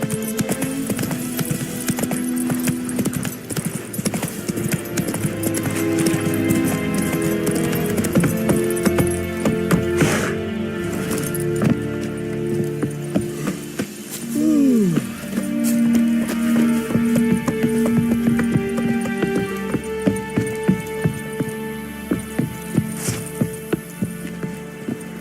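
Rhythmic hoofbeats of Geralt's horse Roach galloping in The Witcher 3: Wild Hunt, repeated clip-clop under a swelling orchestral score with light rain-like patter, a brief character vocal midway.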